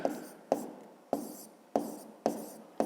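Chalk or pen strokes for a long division sum in a fifth-grade maths lesson, six sharp evenly spaced taps, each followed by a short scratchy scrawl, close and fairly loud.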